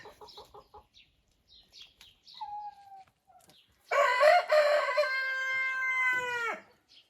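Chickens in a large enclosed run give short clucks early on, then a rooster lets out a loud, sustained crow close by, alone with no talking.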